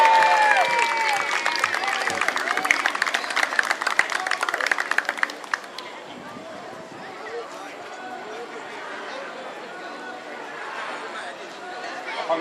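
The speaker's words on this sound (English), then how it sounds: "Please give a warm round of applause for the Hungarian Garden" A street crowd along MLK Boulevard in Cleveland claps for a passing group at the One World Day Parade of Flags, scattered applause and chatter strongest at first, then thinning to murmuring talk.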